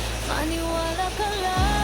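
Heavy rain falls in a steady, dense wash during a flood, with broadband hiss throughout and a low rumble swelling near the end.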